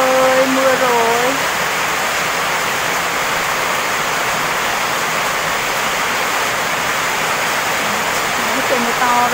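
Heavy rain roars in a constant, loud wash of noise, while brief snatches of speech surface at the start and end.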